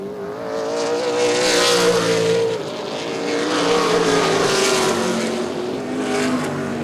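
ARCA/CRA Super Series stock race cars roaring around the Baer Field Motorsports Park oval, engines swelling loudly as a pack passes, fading, then building again with a second close pass.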